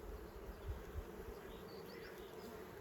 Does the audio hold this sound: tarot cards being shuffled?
no